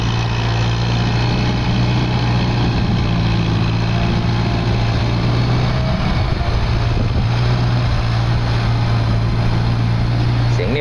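A Kubota MU5501 tractor idles steadily while clearing and leveling a rice field, its engine holding a loud, even hum that never changes pitch and sits close by for the whole stretch.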